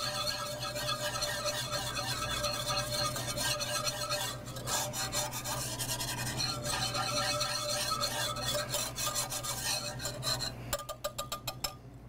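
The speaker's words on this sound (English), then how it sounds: "So I'm gonna mix the two fats together." Butter and fat stirred together in a pan for a roux, a steady rasping scrape of the utensil across the pan bottom with a faint hum underneath, turning into quicker rhythmic strokes near the end.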